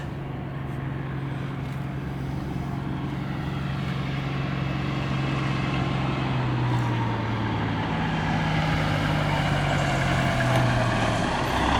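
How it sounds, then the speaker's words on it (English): A truck rumbles steadily at a railroad crossing on Zug Road in Bowie, Maryland, its low engine drone continuous and fairly close throughout, with a faint higher whine rising toward the end. "we have a truck that is coming down"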